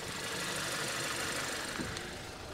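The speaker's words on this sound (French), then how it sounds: "Alors écoutez déjà le bruit du moteur 4 cylindres." A 2024 VW T-Cross with its 1.5 TSI four-cylinder, 150 hp, runs steadily at idle close by, a constant low rumble with slight knocking texture and no talk.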